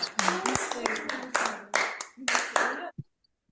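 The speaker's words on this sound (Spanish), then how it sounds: "Un aplauso" A small group claps in a room for a participant named Yasmín, a few bursts of close, sharp handclaps with short gaps, then it stops abruptly into silence.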